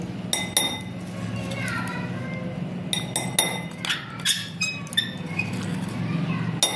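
Spoon clinking against a glass as about three spoonfuls of coffee go in for a dalgona coffee, several light, bright taps scattered over quiet kitchen noise, with someone speaking throughout.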